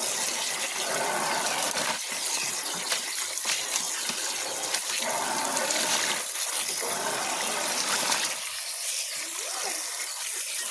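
Pipul leaves are washed in plenty of water, giving a continuous loud splashing and swishing with sloshes and trickles throughout, easing slightly toward the end.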